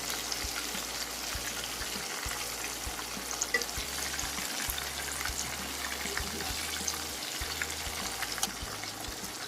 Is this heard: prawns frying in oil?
yes